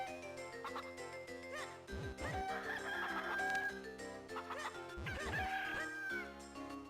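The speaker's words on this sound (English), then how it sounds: "Or maybe pick up the chicken!" Chickens cluck and crow in The Legend of Zelda: The Minish Cap, repeated game-style squawks and clucks in two bursts over a continuous music track.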